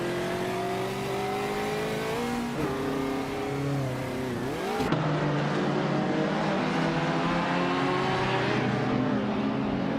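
A 1961 Alfa Romeo Giulietta SZ and other cars race on a track in a racing video game, engines revving and shifting through gears with rising and falling pitch, loud and continuous.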